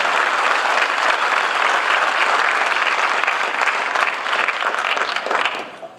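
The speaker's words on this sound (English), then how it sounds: "Everyone, please give them a round of applause" A large audience at a Year Up graduation ceremony gives sustained, loud applause for staff, a dense wash of clapping that holds steady for about six seconds before tapering off at the end.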